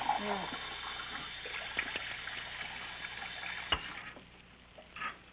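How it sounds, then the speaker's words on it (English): Running water trickling in mountain country, a soft continuous stream of flowing water with a few small splashes and knocks in the background. "Running water way up here."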